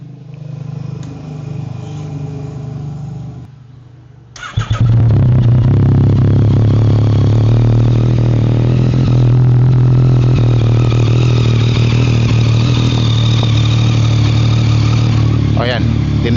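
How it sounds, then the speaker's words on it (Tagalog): Motorcycle engine started up and left idling close to a small clip-on mic, a steady loud low rumble after a brief quiet lead-in, with someone talking over it. "dinig nyo yung andar ng motor"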